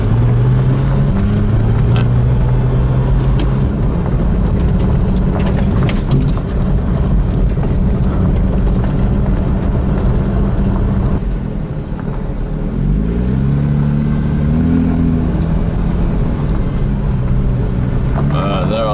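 Cars at a cars-and-coffee gathering in the Alps, with loud, continuous engine drone whose pitch rises and falls as vehicles rev and pass nearby, mixed with wind noise on the microphone and some talking.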